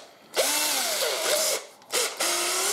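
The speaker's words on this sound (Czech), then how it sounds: "dáš to takhle do té akuvrtačky" A Parkside cordless drill spins a reaming bit inside a pipe in two bursts, a high whirring whine that rises at start-up, pauses briefly, then resumes steadily, close and fairly loud with no talk.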